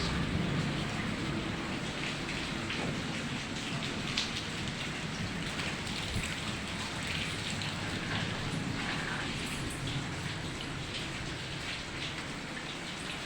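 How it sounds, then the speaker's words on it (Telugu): Steady, heavy rain pours down continuously, hissing evenly on surfaces with no pauses. "రాత్రి నుంచి వర్షం పడుతూనే ఉంది"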